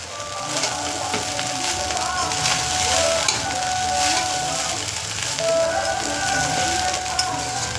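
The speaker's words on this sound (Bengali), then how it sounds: "চিনির গুঁড়োটা দিয়ে এবার নেড়ে দেবো।" Fried rice sizzles steadily in a hot pan after powdered sugar goes in, with scraping stirs and a continuous crackling hiss.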